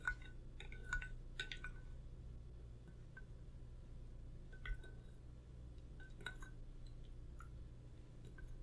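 Bread soaked in milk being stirred in a bowl, soft faint clinks of a utensil against the bowl with gentle wet squishes, sparse and intermittent against a quiet background.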